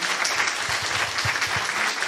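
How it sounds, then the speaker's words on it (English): Audience applause closing a panel discussion on the future of work and collaboration, a steady wash of clapping from many hands at moderate loudness throughout, with no one speaking over it. "let's give a loud applause to Matthew and Glenn here."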